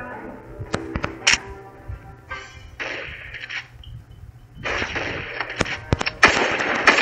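Gunfire in the mobile shooter game Pixel Gun 3D, several sharp close shots and cracks scattered over game sound effects and background noise.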